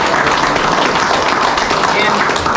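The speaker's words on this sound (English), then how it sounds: "So let's give them another round of applause." Dense, continuous applause from an audience at a Christmas church gathering, loud and close, filling the moment without pause.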